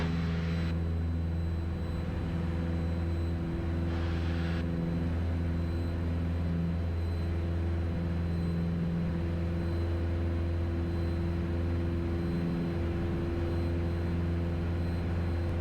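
Single-engine Piper Warrior PA-28-161 airplane at full power on its takeoff roll, a loud steady droning engine with a continuous low rumble throughout, heard from inside the cabin.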